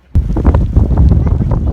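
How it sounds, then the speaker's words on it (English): Strong wind buffets the microphone on a ski mountain in a blizzard, a steady loud roar with gusting surges throughout, with no talk over it. "It's a little on the windy side."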